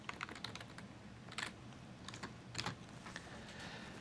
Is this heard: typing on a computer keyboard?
yes